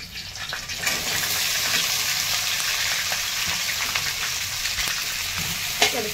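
Chopped okra fries in hot oil with cumin and garlic, a loud continuous close sizzle with stirring, ending in a sharper scrape.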